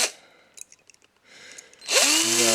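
A power drill bores through a part on a 2018 Ford Mustang GT during a wheel swap, giving short faint bursts before a loud, close whine that spins up and holds at the end.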